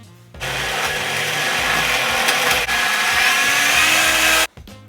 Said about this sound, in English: All we have to do is blend everything until it's completely smooth.